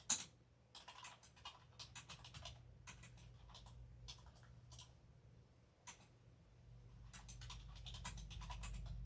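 Rapid bursts of keystrokes on a computer keyboard, clattering in uneven runs with short pauses between, fairly close over a low steady hum.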